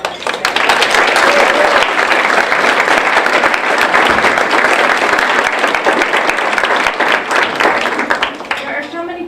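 Luncheon audience at a college honors convocation gives loud, sustained applause for award winners, dense clapping close and full for about nine seconds before thinning at the end.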